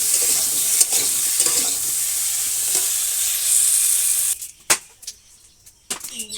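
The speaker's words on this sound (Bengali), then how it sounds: "তেলের পরে একটু কচুর গাছের লবণ, একটু হলুদ দিয়ে একটু আস্তে করে আগে নেড়ে নেবো" Salt and turmeric being stirred into hot oil in a pan in a village kitchen sizzle in a loud, steady hiss for several seconds, then the frying drops away, leaving near silence broken by a few sharp utensil clicks.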